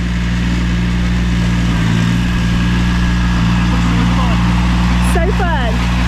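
A tractor engine on an off-grid homestead runs at a steady, low idling drone, close and loud, while people talk over it.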